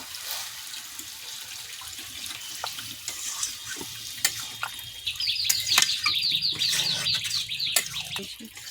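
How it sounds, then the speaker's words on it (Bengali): Water poured in a small stream into a pan of curry of pumpkin, potato, drumsticks and prawns cooking on the stove, a steady splashing trickle over faint sizzling, with a bird chirping nearby. "এবার অল্প করে জল দেব"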